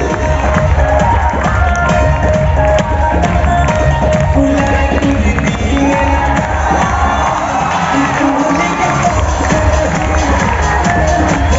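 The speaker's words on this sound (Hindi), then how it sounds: "जोरदार ताली होना चाहिए।" A large crowd at an outdoor recognition ceremony in Patna's Gandhi Maidan keeps up dense, steady applause and cheering with scattered shouts, loud and continuous throughout.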